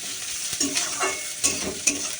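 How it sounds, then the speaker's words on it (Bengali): Sliced onion frying in hot oil for an evening snack, a steady soft sizzle with several spoon stirs and scrapes breaking through at intervals, close and with no voices. "তেল আমার গরম হয়ে গেছে পেঁয়াজটা দিয়ে দিই পেঁয়াজটা আগে একটু ভেজে নেব"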